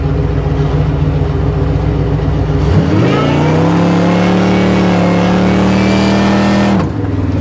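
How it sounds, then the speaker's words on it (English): A supercharged 1955 Chevrolet Nomad does a burnout on a line lock, its engine loud and close, first a rough idle, then a sharp rev to a sustained high-pitched roar of spinning tires, which ends abruptly near the finish. "Oh no, it's definitely blazing the tires there."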